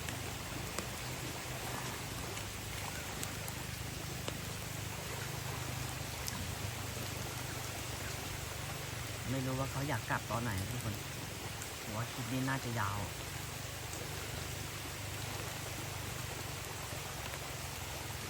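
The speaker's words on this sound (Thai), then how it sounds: "ถือว่ามันจะเป็นฝนตก ไม่ค่อยแรงเท่าไหร่นะแต่มันก็ตกมาตลอดอ่ะ" Steady light rain falls by a stream where people are fishing, a constant hiss of drops and running water filling the whole stretch, with someone speaking briefly over it near the middle.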